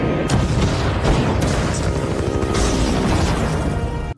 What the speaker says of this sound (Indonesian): tiba-tiba mereka diberondong tembakan oleh musuh sampai beberapa prajurit tewas tanpa perlawanan